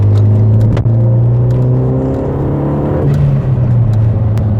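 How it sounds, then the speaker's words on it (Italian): A Renault Megane RS Trophy revs loudly from inside the cabin, its intake blowing with a sustained droning engine note that climbs and settles, with no talk over it. "Quanto è bella l'aspirazione quando soffia."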